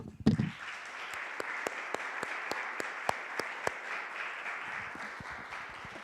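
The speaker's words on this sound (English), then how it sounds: "A round of applause." Applause from an audience at a community honoree reveal ceremony, sustained steady clapping for about six seconds with a few sharper individual claps standing out, after a brief low thump at the start.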